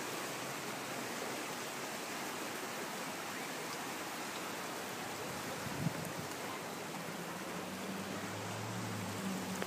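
The flooded Elbow River in Calgary rushes past high above its usual level, a dense, steady roar of churning water that holds constant and loud throughout.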